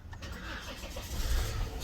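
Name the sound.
Volvo car engine starting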